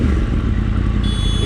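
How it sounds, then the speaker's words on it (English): A 2012 Yamaha R1 Crossplane superbike engine warms up: a loud, close, steady low rumble with a thrumming idle texture and a faint high whine joining near the end. "just a short spin and just to warm up my engine on my 2012 Crossplane"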